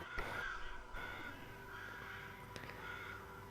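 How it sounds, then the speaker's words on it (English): Crows caw in a few harsh calls over a steady background hum during a Waterdeep tabletop roleplaying session, moderately loud and with no talking. "The crows are very unsettling."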